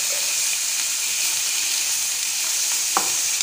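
Food sizzles and fries steadily in a frying pan, a continuous broadband hiss throughout with one brief sharper tap or scrape near the end.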